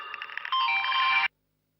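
A mobile phone ringtone sounds in a Telugu household drama scene: a bright, electronic, melodic ring, close and loud, that plays for just over a second and then cuts off abruptly into silence.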